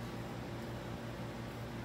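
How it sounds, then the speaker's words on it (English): A room heater runs steadily in the background during winter, producing a constant, even broadband hum and hiss with no breaks or changes across the moment. "That background noise you hear is our heater."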